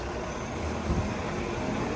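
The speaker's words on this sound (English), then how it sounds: "Lately, they've been running these crappy articulated buses, along with some new flyers, and then the occasional 40-foot buses." An articulated city bus rolls past on Old Weston Road in Toronto's Earlscourt neighbourhood. Its engine gives a continuous broadband roar at moderate distance, with a brief low swell midway and no speech.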